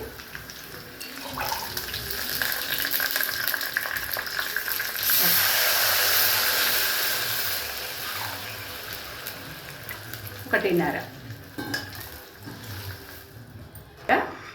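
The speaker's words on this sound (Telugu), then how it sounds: "ఇప్పుడు మనం వాటర్ పోస్తున్నామండి" Water pours into a pot with a broad rushing splash that swells for a few seconds, followed by clinks and handling noises nearby.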